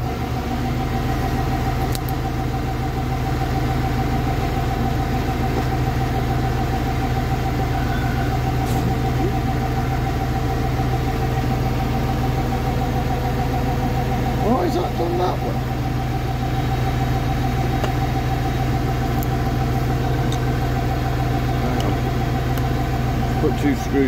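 A tractor runs with its PTO engaged, driving a new hedgecutter. A steady, loud engine hum with a low drone continues throughout, with a few clicks and knocks and a voice talking occasionally over it.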